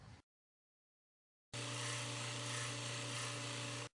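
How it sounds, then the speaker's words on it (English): A Work Sharp WS2000 sharpener and precision grinder switches on after a brief silence, giving a steady, close motor whine with a firm humming tone for about two seconds before cutting off abruptly. "WorkSharp is moving at roughly 1/4 the surface speed of a typical grinder"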